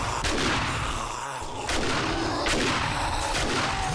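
Rapid bursts of video game gunfire crackle through a dense, sustained barrage of shots, loud and continuous with sharp transients across the whole stretch, fighting off a school infestation.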